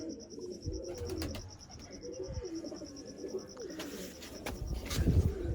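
Flying pigeons in a loft of over 80 birds coo in low, rolling phrases, several close by, with a steady high chirping tone and occasional thumps and rustles.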